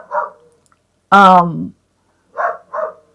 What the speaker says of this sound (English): see that barking just never stops